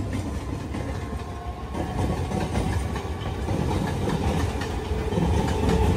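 The Hamsafar Express from Jodhpur to Tiruchirappalli rolls along the rails with a loud, steady rumble and rhythmic clickety-clack of wheels, heard from on board with no voices.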